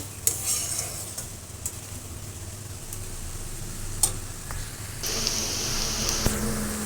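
Onions and carrots fry in a pan for fried rice, a steady soft sizzle broken by scraping stirs and clicks of the spatula, which grows louder and brighter toward the end.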